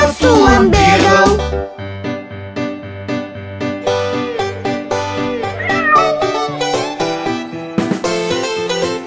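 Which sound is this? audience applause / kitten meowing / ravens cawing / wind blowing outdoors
kitten meowing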